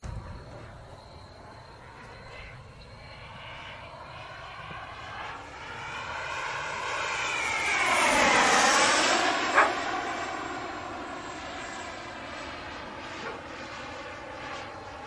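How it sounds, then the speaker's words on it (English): A radio-controlled model airplane with a smoke system flies past, its engine whine rising in pitch as it approaches, peaking loud overhead, then dropping as it moves away, with insects chirping faintly in the background. "Bobby, I got a plane with smoke on it now."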